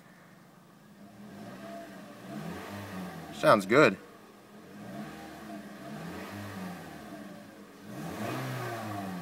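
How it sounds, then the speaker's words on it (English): A new 2013 Toyota Corolla S engine revs up and falls back several times, its pitch rising and dropping, with a brief spoken remark in the middle. "Let's give her a couple revs"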